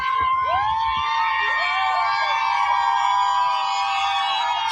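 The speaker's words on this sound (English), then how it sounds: "Cheers, literally cheering someone who's accused of murder." A crowd cheers and whoops outside a courthouse, a dense, loud roar of many voices with rising and falling shouts and whistles that stays constant throughout.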